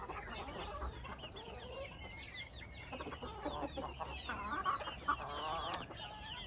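Backyard chickens, a rooster and hens, clucking while eating purslane; soft, close, irregular clucks and murmuring calls continue throughout at low volume, with no talk.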